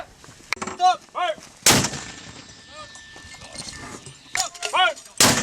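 Live fire from an M777A2 howitzer during a joint U.S. Marine and Australian Army assault exercise: three sharp, loud broadband blasts spaced a few seconds apart, with shouted commands and voices talking between the shots.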